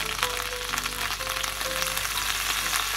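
Red wine hits a frying pan of sauce and sizzles loudly and steadily at close range, with no voices.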